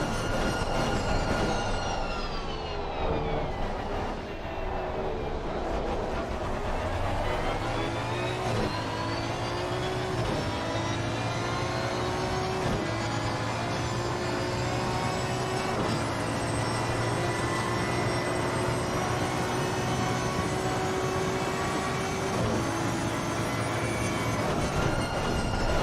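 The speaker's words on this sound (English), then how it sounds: "I think I'm going to give you guys a bit of a view pass of listening to this Aston Martin V12" An Aston Martin V12 racing car in a PC racing game at Monza roars continuously and loudly, its pitch climbing and dipping through gear changes over a steady drone, with no voices.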